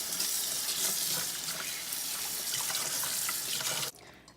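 Cooked meat is rinsed under a running kitchen tap, a steady close hiss of water splashing into the sink until the flow is shut off near the end.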